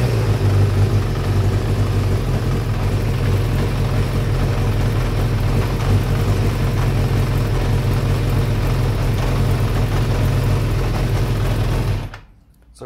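A Kawasaki GPZ600R four-cylinder motorcycle engine idles steadily during carburetor synchronization, a continuous close, loud drone that cuts off abruptly near the end.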